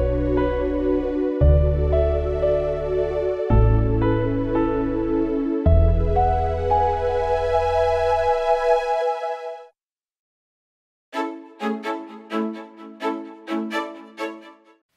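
Internal synth sound of the Audanika music app: a sustained low bass-and-chord sequence changing every couple of seconds, a brief silence, then a run of short plucked melodic notes, played alone with no talk.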